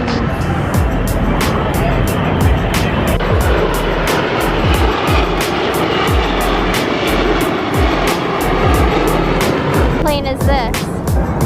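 C-130 aircraft flying at the Miramar airshow, a loud, steady propeller engine roar with a rhythmic pulsing beat that fills the whole clip, with crowd voices mixed in.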